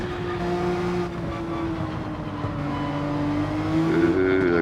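A race car engine in a racing game holds a strained, steady high drone in first gear, close and loud, its pitch dipping slightly and then rising again toward the end.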